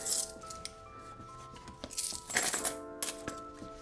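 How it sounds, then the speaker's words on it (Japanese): Fifteen metal coins clink and jingle as they drop into a Bottega Veneta leather bifold wallet, several close bright chinks in quick clusters with quiet handling in between, no talking. "はい、小銭を今15枚入れるとこれぐらいです。"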